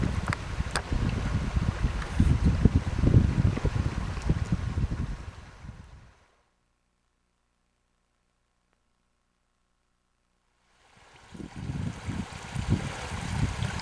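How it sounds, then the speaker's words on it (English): Water from a fairly decent stream flowing out of the portal of a mine's 900 level, a steady broadband rush with wind buffeting the microphone, cutting out to silence midway and then returning. "There is a fairly decent stream flowing out of the portal."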